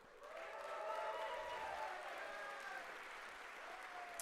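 A live crowd at a Star Citizen ship racing event applauds, a faint, distant spread of clapping that swells and then tapers off over a few seconds.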